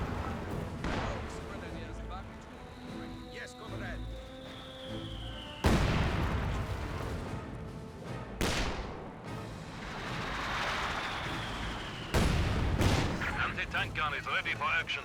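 Gunfire and artillery from a Company of Heroes 2 battle, including a T-34/76 tank firing, with several sharp booms and blasts over a continuous rumble of combat, loud and close, while someone talks throughout.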